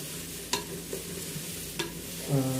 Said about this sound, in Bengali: সবগুলো একসঙ্গে ভালো করে পাঁচ মিনিটের মতো ভেজে নেব